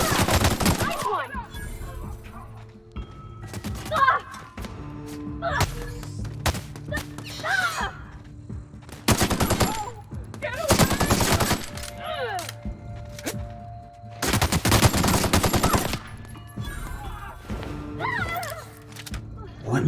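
Light machine gun fire in The Outer Worlds, loud bursts of rapid automatic shots in several strings separated by pauses, with voices talking between volleys.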